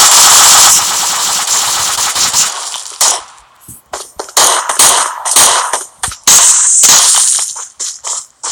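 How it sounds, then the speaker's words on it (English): Gunfire in PUBG Mobile coming from two directions: a dense, loud burst of automatic fire for about three seconds, then a series of sharp separate shots and short volleys at varying distances, no talking. "I'm being shot at from two directions."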